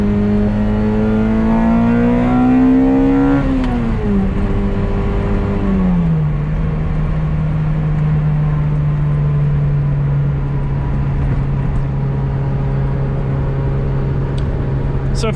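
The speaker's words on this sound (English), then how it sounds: "if you've never driven an Elise, as you can hear, it's very loud. There's a lot of rattles" Lotus Elise S2 being driven, its engine loud and droning as it revs up and then settles, with rattling dash plastics inside the cabin and a person talking over it.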